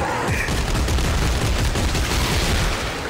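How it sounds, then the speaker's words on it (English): Continuous weapon fire in the horror shooter Dead Space 3, a dense, loud burst of rapid shots packed together for several seconds with no pauses. "I started shooting before I was ready."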